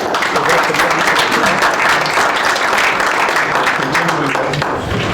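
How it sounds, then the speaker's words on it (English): An audience at an amateur radio club meeting gives a round of applause to recognize members, a dense, loud, sustained clapping that fills the room for several seconds with faint voices mixed in. "I'd like to recognize them with a round of applause"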